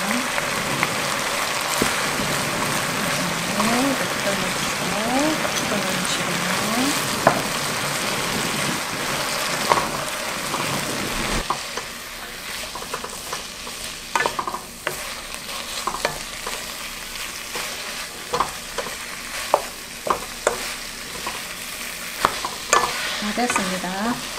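Seasoned sweet potato stems stir-fried in a pan: a steady sizzle with the constant scrape and clatter of stirring, close and fairly loud, softening slightly partway through.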